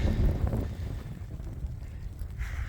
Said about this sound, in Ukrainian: Вітер дує дуже сильний.